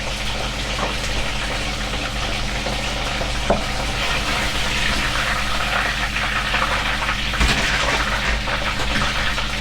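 Food fries in hot oil with a constant crackling sizzle and scattered pops, loud and close, running unbroken through the whole stretch with no talking.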